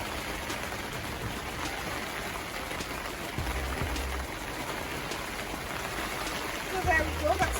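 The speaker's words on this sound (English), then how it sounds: "Very heavy rain." Dense, steady downpour hisses close by, with scattered drips and thumps on nearby surfaces and a faint voice briefly near the end.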